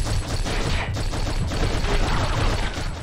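Sustained machine gun fire from an enemy machine gun nest in the shooter game Black, a dense, steady stream of rounds holding at an even, fairly loud level with a few sharper cracks.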